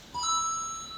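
Obstacle course completion signal, a short electronic chime of a few bright rising tones, clear and moderately loud with no voices.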